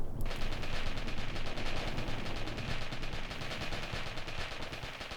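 An MG34 machine gun fires long, dense bursts on a foggy battlefield in the war game Graviteam Tactics, a loud, continuous rattle with no speech over it.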